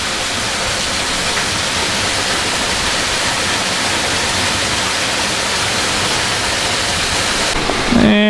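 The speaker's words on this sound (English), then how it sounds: "And there's the top of the waterfall." Waterfall rushing in Shawnee National Forest near Dutchman Lake, a steady, loud, broadband roar of falling water heard close up, continuous throughout, with a brief voice at the very end.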